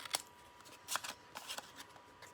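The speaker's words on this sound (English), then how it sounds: "I do have to trim that with scissors" Scissors trim the stem of a paper flower, giving a few crisp, close snips and rustles spaced irregularly, with no talking.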